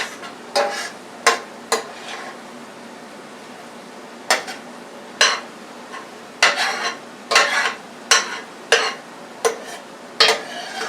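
Spinach frying in a pan is stirred with repeated sharp scrapes and clatters of a utensil against the pan, spaced irregularly over a soft continuous sizzle, close and fairly loud.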